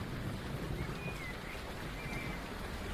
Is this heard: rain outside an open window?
yes